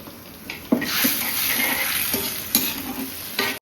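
Fried chicken wings are stirred into a thick sauce in a pan: a loud, steady sizzle runs throughout, broken by several sharp spoon scrapes and knocks against the pan.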